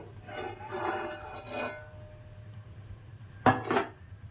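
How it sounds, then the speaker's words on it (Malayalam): A metal baking pot is moved after baking a cake, with several soft clinks and scrapes of cookware in a quiet kitchen, including one sharper knock near the end. "ജസ്റ്റ് ഒന്ന് പാത്രം മാറ്റി നോക്കാം കേട്ടോ"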